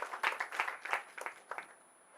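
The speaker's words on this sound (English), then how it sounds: "Let's clap for him." A small audience at a professional tax session claps for a guest speaker in a short, moderately quiet burst that fades out after about two seconds.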